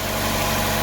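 Chevy Cruze 1.4 liter turbo engine idling just after start, a steady, dense hum with a noisy mechanical clatter layered on top, close and continuous without any pauses.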